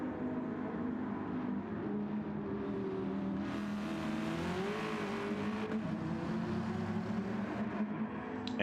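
A race car engine drones steadily in a racing video game on a Sardegna track, holding a continuous, fairly quiet hum with a slight rise in pitch midway and no talking.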